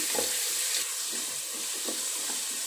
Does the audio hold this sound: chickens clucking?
no